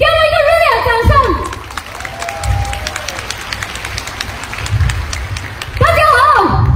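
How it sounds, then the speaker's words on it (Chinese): An audience in a hall at a staged corporate event breaks into sustained applause, framed by amplified speech at the start and end. "给我们一个热烈的掌声"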